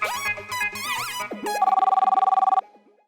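A short burst of music gives way to an electronic telephone ring, a rapid warbling trill lasting about a second before cutting off.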